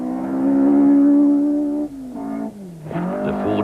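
A Ford rally car on a sandy autocross stage revs hard and holds a high engine note, drops off, then surges again in short bursts through tight bends, loud and close.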